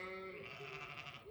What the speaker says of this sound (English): Yes, the sheep saying yes.